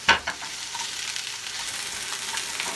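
Sliced cucumbers fry in a little oil with leeks over medium-high heat, giving a steady close sizzle throughout, with a couple of sharp stirring clatters at the start and no talk.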